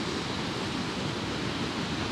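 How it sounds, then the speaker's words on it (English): Big ocean waves crash in with a steady, broad roar of surf during a film photography roadtrip, a continuous wash of noise with no clear breaks and no talking. "Mirror lock up, big waves crashing in."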